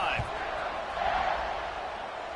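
A video game stadium crowd in College Football 25, in a matchup against Texas, sends up a steady, broad roar of cheering that holds for the whole stretch with no breaks.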